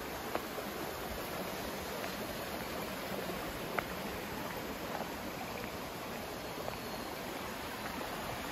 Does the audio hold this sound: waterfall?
yes